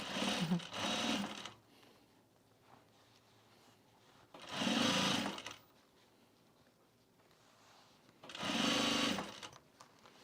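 A sewing machine stitches down the edging of a travel bag in three short, close bursts of rapid mechanical whirring, separated by quiet pauses of a few seconds.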